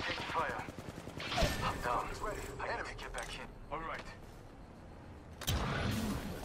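Gunfire rattles in Apex Legends as bursts of rapid shots crackle under steady talk, with a louder volley near the start and another toward the end.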